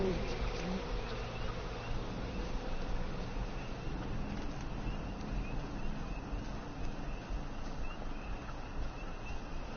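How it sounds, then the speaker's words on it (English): A dense, steady drone of bees buzzing continuously, loud and close, with a broad insect hum filling the whole stretch and no clear talk over it. "I feel like probably a good idea to avoid the bees."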